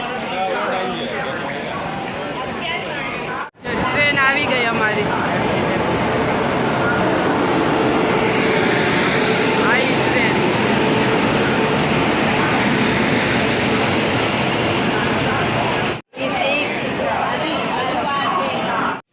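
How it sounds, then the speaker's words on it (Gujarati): A train pulls into Kalupur railway station in Ahmedabad, a long, loud rumbling roar of wheels and carriages that fills the platform, with crowd chatter and voices mixed in throughout. "ગાડી હજી ગાડી આવી નથી તો બીજી ટ્રેન આવી"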